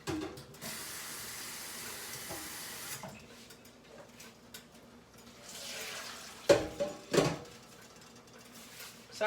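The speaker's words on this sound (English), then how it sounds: "So I'm just draining my egg noodles." Cooked egg noodles are drained in a kitchen sink, starting with a steady rush of water and followed by metallic pot clanks and a few sharp knocks, close and moderately loud, with no voices.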